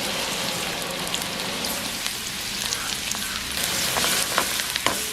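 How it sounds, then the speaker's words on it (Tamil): Garlic fries in hot oil with a loud, dense, continuous sizzle and crackle, close up and steady, with occasional small pops and stirring scrapes and no talking. "எண்ணெய் கொதிச்சோன்னு இந்த உள்ளியில் போடுவோம்."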